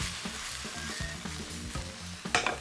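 Vegetables for a vegan curry with pointed cabbage sizzle steadily in hot oil over high heat, a close, continuous crackling fry with faint stirring clicks and no talking.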